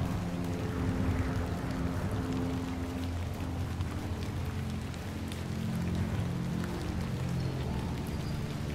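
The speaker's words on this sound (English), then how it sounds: "I love the rain effect in this game." Rain in The Excavation of Hob's Barrow video game falls in a steady, dense hiss and patter, continuous and fairly loud throughout with no talk.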